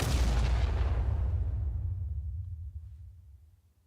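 A small generic explosion effect from a 2D Godot game remake of Hogs of War: one loud boom with a heavy low rumble that fades out over about four seconds, with no voices.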